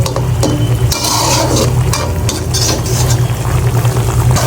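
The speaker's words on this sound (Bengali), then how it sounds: "এই মাছগুলোকে কষিয়ে উঠিয়ে ফেলবো" Fresh snakehead fish pieces being sautéed in a pan, a steady, close, continuous sizzle and crackle with occasional stirring scrapes throughout.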